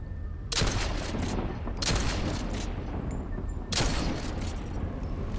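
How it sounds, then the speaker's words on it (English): Three loud, sharp gunshot reports in a Fortnite battle match, the first a sniper shot fired at the player, each a broadband crack with a short tail over steady game background noise, spaced about one and a half seconds apart. "That guy just took a snipe shot at me."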